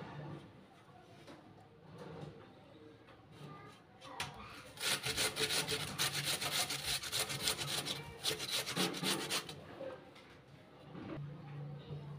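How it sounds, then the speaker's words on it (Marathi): A peeled potato rubbed against a grater, a steady rasping scrape that swells loud in the middle stretch over quieter kitchen background. "हे आलू खिसून घेते। आलू हे साल काढलेलं आहे, आपल्याला खिसून घ्यायचं आहे ते"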